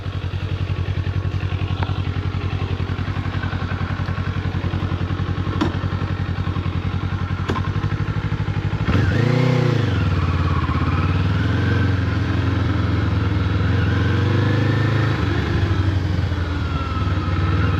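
A 2024 Kawasaki Eliminator motorcycle rumbles steadily while being ridden, its engine note rising and falling through gear changes with constant wind and road noise, no talking.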